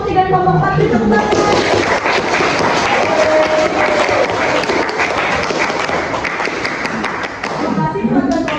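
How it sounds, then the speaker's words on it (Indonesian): A classroom of students breaks into dense applause, many hands clapping together loudly and close, with voices mixed in at the start and end. "Tepuk tangan."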